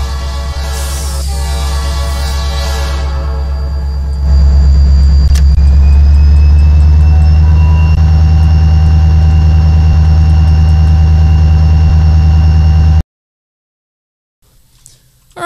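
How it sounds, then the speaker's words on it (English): A diesel locomotive engine in a train simulator game idles loudly, then revs up to a heavier, steady, droning roar with a rising whine before cutting off abruptly. "Let me rev it up here, get some more RPMs in there."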